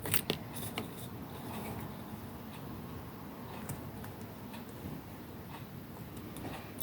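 Scissors cut through material for a shabby-style pouch, giving a series of soft crisp snips and rustles close by and fairly quiet, with no talk.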